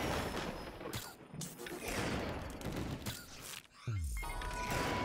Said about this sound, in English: She fires out the little like bullets and they just track onto people.